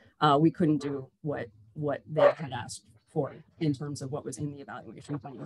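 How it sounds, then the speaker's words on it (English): Dogs barking intermittently in the background of a home during remote work, faint and mostly buried under continuous conversational speech. "I apologize if you hear barking dogs in the background"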